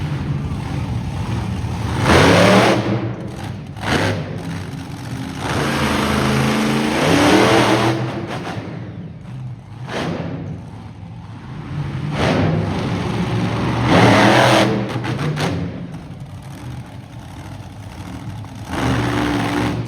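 A big monster truck engine revs repeatedly in loud surges, roaring up and dropping back over about twenty seconds, with a noisy crowd in the background at a monster truck show.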